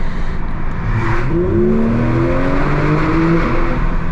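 A Porsche 992 911 GT3 Touring engine revs and pulls, its pitch climbing in smooth sweeps, loud and steady with a high mechanical whine.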